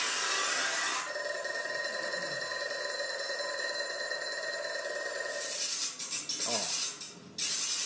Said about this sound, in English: This is lovely, it's a garden rake.